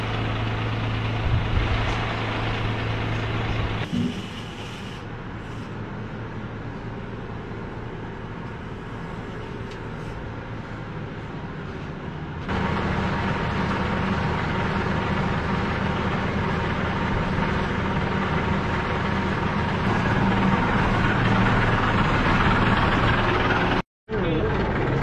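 A truck engine idles steadily during a used-oil collection after vehicle oil changes, a continuous low rumble that shifts level partway through, with people talking over it.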